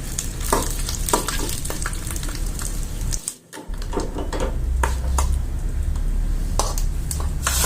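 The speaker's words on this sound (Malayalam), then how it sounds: "അതിലേക്ക് കുറച്ച് കറിവേപ്പില കൂടി ഇട്ട് കൊടുക്കുക അപ്പോൾ സ്പൂണിനെ കൊണ്ട് നന്നായിട്ടൊന്ന് ഞാൻ മിക്സായിക്കും" Curry leaves stirred with a spoon in sizzling hot oil for Kerala-style drumstick curry, a continuous loud frying hiss with scraping stirs and a brief dip in the sizzle midway.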